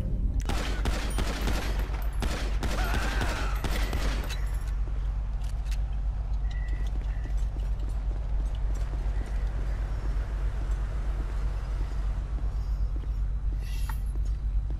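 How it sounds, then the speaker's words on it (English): A dense burst of rapid gunfire from a police shootout in GTA V with the LSPDFR police mod, loud and crackling for about four seconds, then fading into a steady low rumble with faint scattered sounds. "Shots fired!"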